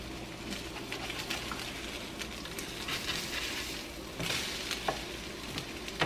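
Low-carb keto French toast frying in a pan gives a continuous close sizzle and crackle, with some faint patter and a brief shuffle as the pieces are turned, and no talking.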